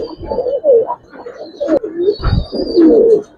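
Giribaz and coloured pigeons coo in a series of soft, throaty, rolling calls, close by and fairly loud, with brief pauses between them.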